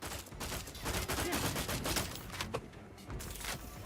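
Sustained video game gunfire from The Outer Worlds 2, aimed at a regeneration device from a crouched position, forms a dense, continuous volley of rapid shots running the full length at steady loudness.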